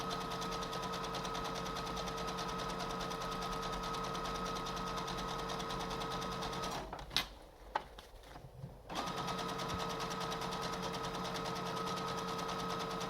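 A sewing machine runs a reinforcing closed seam on a three-layer cloth face mask, giving a steady mechanical whir that stops briefly for a couple of seconds before resuming, close and continuous with no talking.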